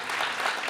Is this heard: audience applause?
yes